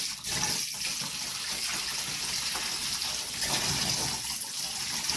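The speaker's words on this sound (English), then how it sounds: "I'm going to turn on some hot water in the sink to wash my pineapple and my lemon and my turmeric." Hot water running from a kitchen sink tap, a steady close rush and splash that continues unbroken throughout with no talking.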